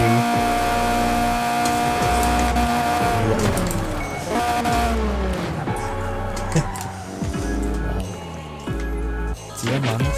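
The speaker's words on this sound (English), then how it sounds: "That exhaust, man. I just love that exhaust." A 1993 Renault Clio Williams engine in Forza Horizon 4 roars steadily with revving and gear changes, loud and continuous, with tire squeals and music-like tones layered over it.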